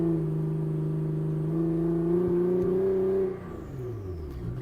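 A Nissan GT-R R35 sits on launch control, its engine holding a steady high idle drone that then sags as the revs fall, close and mechanical, with no one speaking.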